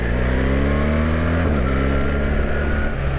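BMW R1300GSA motorcycle pulling away on back roads, engine note climbing steadily through a gear, a brief dip at a shift, then rising again, loud and close with wind rush.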